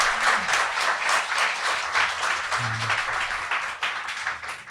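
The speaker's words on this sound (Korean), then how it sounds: "박수 한번 부탁드립니다" An audience applauds steadily at a live talk show, dense crowd clapping that stays loud and continuous throughout.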